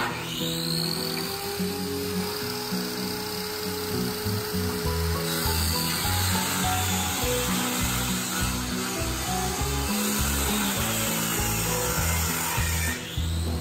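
A power saw drones steadily while cutting through plywood, a continuous grinding whine with rubbing texture, close and loud, with no voices.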